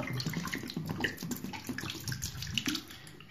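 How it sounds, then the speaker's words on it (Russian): Hot water pours from a tap into a shaving scuttle, a steady close splashing and gurgling stream that runs continuously with small irregular bubbling bursts and no voices. "Еще раз заправляю его горячей водой."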